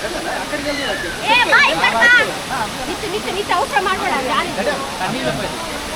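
Constant broad rush of falling water from a waterfall near Sakleshpur, steady throughout, with people talking loudly over it.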